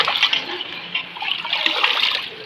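Water pours and splashes into a bathroom mug as it is rinsed after cleaning, a steady close trickle lasting a few seconds with no talk.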